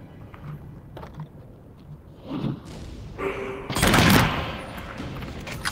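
Gunfire in the VR video game The Light Brigade on Quest 2, a few muffled shots and thuds rising into a louder burst of fire near the end.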